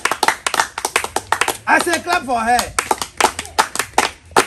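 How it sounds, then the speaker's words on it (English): A classroom of students claps for a classmate, with bursts of sharp, close hand claps coming in quick uneven volleys around a short spoken word from a teacher. "I said, another clap for"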